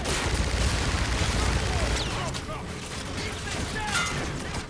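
Rapid gunfire from a weapon in the video game Call of Duty: Infinite Warfare rattles in dense bursts alongside mechanical clatter and game effects, loud and continuous across the moment.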